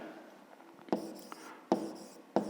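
Pen writing out a 5th-grade math solution on paper, a faint steady scratch punctuated by three crisp taps or strokes, close and quiet, with no voices.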